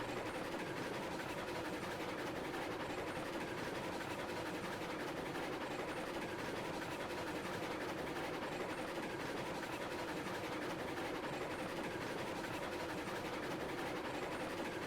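A train in the video game Railroads Online rolls steadily along the rails, a continuous rushing rumble with faint rhythmic clatter, unchanging for the whole stretch.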